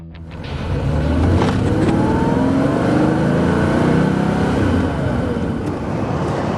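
A 1974 Porsche 911 engine revving, a loud, close throaty drone that swells in and holds steady with rising and falling tonal sweeps.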